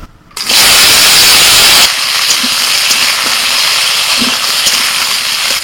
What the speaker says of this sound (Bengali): তেল গরম হয়ে গেছে, পেঁয়াজ কুচোনো, আলু আর কাঁচা লঙ্কা দিয়ে দিই তেলে